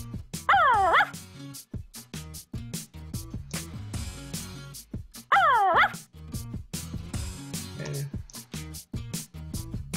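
A game puppy in Barbie and Her Sisters: Puppy Rescue gives two bursts of high yipping barks, each followed by short whimpers, loud and close, between stretches of game sounds and no talking.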